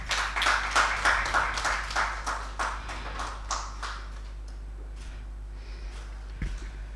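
An audience applauding at an e-commerce logistics seminar: a burst of scattered clapping from a room full of people that thins out over a few seconds, leaving faint room noise and a low hum.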